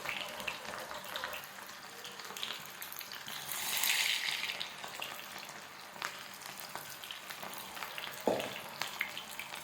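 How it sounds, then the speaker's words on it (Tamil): Marinated cauliflower pieces deep-fry in hot oil in a kadai, giving a faint, hissing bubble that swells for a moment and is broken by occasional small knocks and a clatter near the end. "காலிஃப்ளவரை நம்ம போட்டு ஃப்ரை பண்ணி எடுத்துக்கலாம்"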